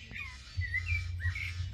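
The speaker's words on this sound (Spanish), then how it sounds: "los pajaritos nos vienen a levantar. ¡Uy! Me viene a silbar." Small birds chirp and whistle in bright, repeated phrases that rise and fall, close and clear over a steady low hum, with no talking.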